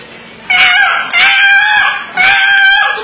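A human voice imitates a chicken caught in a fence, giving three loud, strained squawking cries one after another with brief gaps, alone with no other sound.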